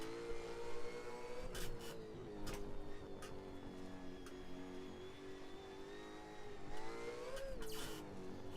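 A modified Ford Transit van engine in a racing video game, its mid-pitched drone rising and falling as it revs through gears, with brief tire squeals and clicks, steady and fairly faint.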